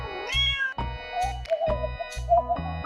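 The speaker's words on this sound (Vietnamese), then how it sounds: "Con mèo." A domestic cat meows several times in a row, close and clear, each call rising and falling in pitch, with short gaps between the calls and no other sound around them.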